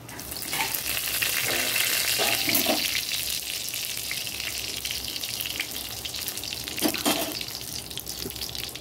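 A bay leaf sputtering in hot oil in a kitchen: a continuous loud sizzle and crackle with a few scattered taps from a utensil, up close, with no speech.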